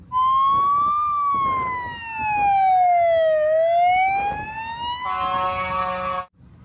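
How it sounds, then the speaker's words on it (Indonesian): A toy fire truck's electronic siren wails loudly and close, its tone sliding slowly up and down before switching to a harsher buzzing pattern near the end and stopping abruptly. "Keluarlah pemadam kebakaran."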